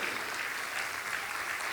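A church congregation applauds steadily at a sermon, a dense, even wash of clapping hands that continues without a break.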